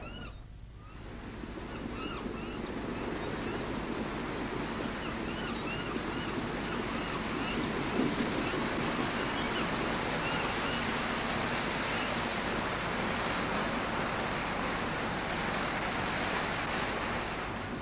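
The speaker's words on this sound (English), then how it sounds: "This body of water is, of course, Lake Ontario, the most easterly and also the smallest of the Great Lakes." Waves on Lake Ontario wash steadily against the shore, a soft continuous surf with light wind, fairly faint and without any voices.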